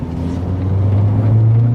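Mk1 Golf GTI driving on a bumpy country road, heard from inside as a loud, steady low engine drone and road rumble that builds slightly over a couple of seconds, with no talking.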